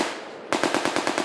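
A BAR automatic rifle fires at a war reenactment in Rawtenstall, letting off a rapid burst of about seven loud, close shots after a brief lead-in of rumbling noise.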